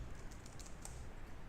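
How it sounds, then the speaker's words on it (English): Quiet clicking of gibberish being typed on a computer keyboard: a handful of light, irregular key taps over a faint steady background hiss. "we're just going to type in some gibberish"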